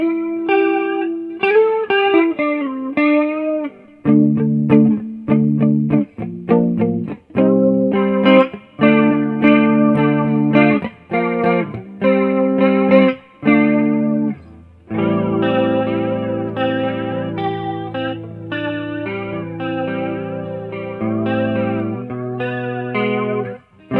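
An electric guitar runs through a JHS 3 Series flanger pedal on its tape-down setting, playing single plucked notes and short phrases, then sustained strummed chords, all with a swirling, sweeping modulated shimmer.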